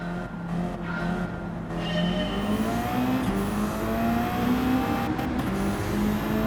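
Race cars in Gran Turismo 7 roar off the line at a race start, engines revving and rising in pitch together, with tire squeal and cars passing close by, loud and steady throughout with no talking.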